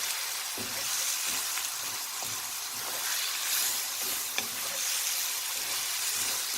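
Okra for bhindi masala frying in a pan over medium-low heat, giving a steady soft sizzle with faint stirring scrapes and small clicks, close by and fairly quiet, with no voices.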